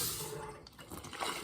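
Hot pickling liquid poured through a funnel over peppers and other vegetables in a jar, a brief gurgling, splashing stream that thins and swells again, close and fairly loud.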